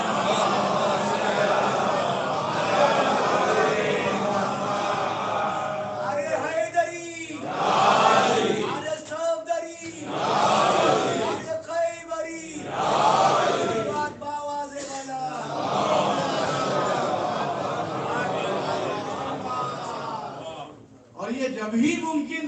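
A majlis congregation recites salawat together, a crowd of voices rising and falling in unison in several loud swells, separated by brief pauses.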